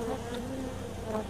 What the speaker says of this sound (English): So we got bees going to the light, which they always go to the light.